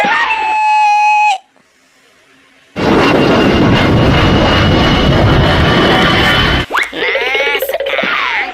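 An airplane sound bursts in loud and close after a brief silence, a harsh broadband roar lasting about four seconds, bracketed by high shrill tonal sounds before and after.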